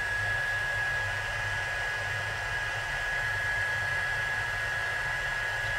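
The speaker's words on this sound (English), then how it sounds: "This is a big surface to heat emboss, so it's going to take just a minute." A heat gun used for heat embossing runs with a steady, loud, unbroken blowing whoosh and a fixed high whine, like a hair dryer held close, for the whole stretch with no voices.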